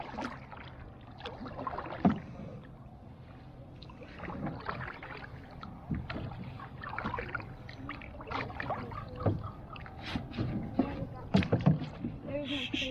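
Kayak paddles dip and splash irregularly on Lake McDonald in Glacier National Park, with soft water swishes and occasional knocks against the hull, while people talk quietly nearby.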